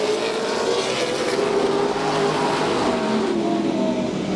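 Race cars on an oval track roar past in a continuous loud engine drone, the pitch wavering and shifting as the pack runs laps together, including a ten-year-old car keeping pace with newer ones.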